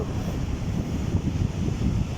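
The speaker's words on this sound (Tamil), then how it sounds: "எப்படி அடிக்குது பாருங்கள் கடல் அலைகள்" Sea waves wash onto a beach in Kuwait with a continuous low rumble and churning surf. Gusty wind buffets the microphone, and no one speaks.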